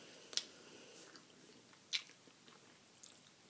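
Biting into and chewing a strawberry and M&M treat: three faint, crisp crunches spaced across the stretch with quiet mouth sounds between, close and soft, without talk.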